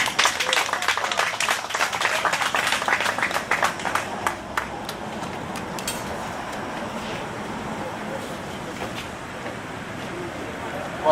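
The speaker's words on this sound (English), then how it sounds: "please give her a round of applause." Audience applause at a Harlem in the Hamptons gathering, with scattered, fairly faint clapping in the first few seconds that thins into a quieter, breezy outdoor background.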